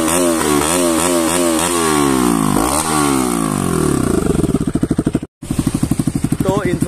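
Modified motorcycle engine running with its exhaust tube opened, loud rapid revving that climbs and falls, then settles into a hard, fast popping idle after a brief cut, very close.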